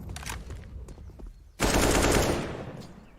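Gunfire in Counter-Strike on the Inferno map: a few scattered shots and clicks, then a loud sustained burst of automatic fire, under no talk.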